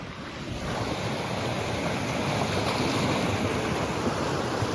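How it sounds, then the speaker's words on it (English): Water roars through a ranch ditch irrigation system after high water, a dense, steady rushing wash that stays loud and continuous throughout, with no talk over it. "you can probably already hear the water. It's starting to roar pretty good."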